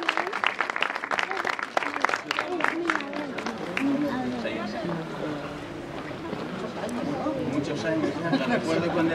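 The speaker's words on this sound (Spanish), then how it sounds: "Un fuerte aplauso." Audience applause at a Día del Árbol stage event, a dense wash of clapping and crowd chatter that holds steady throughout, with voices mixed in.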